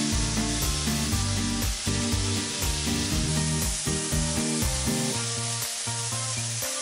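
Chicken pieces searing in hot oil in a pan, the continuous bright sizzle and crackle of frying running steadily throughout, mixed with a rhythmic tonal backing.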